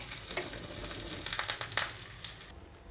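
Crackling pops and sizzling of mustard seeds spluttering in hot oil, busy and close, dying down sharply near the end.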